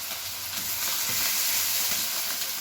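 Ginger paste and chopped tomato frying in a pan for a vegetarian pea dish, giving a loud, steady sizzle with bursts of spitting close up, no talking.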